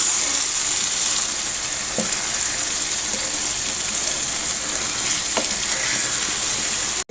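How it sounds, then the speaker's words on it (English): An egg frying in a pan of pasta sauce gives a steady, loud sizzle and crackle throughout, with a couple of soft taps partway through. "I'm just going to add in the egg."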